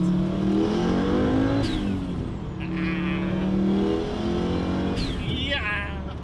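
An Audi Sport Quattro with a 500 HP setup accelerates hard, its engine note rising through gear changes with sharp shift breaks, loud and close from inside the car, with people talking over it.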